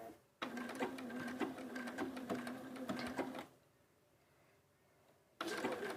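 A sewing machine races at top speed blanket stitching an appliqué, a fast close mechanical whirr with a rhythmic needle tick, stopping for about two seconds before starting again at full speed.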